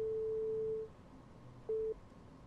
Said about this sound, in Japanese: あ、電話だ。